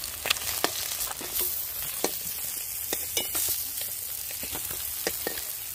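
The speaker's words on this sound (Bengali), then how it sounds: "মাছগুলো ভাজা হয়ে গেছে, এখন আমি তুলে নিচ্ছি।" Rohu fish pieces frying in hot oil in a pan give a steady close sizzle, broken by several sharp clicks and scrapes as the fried pieces are lifted out one by one.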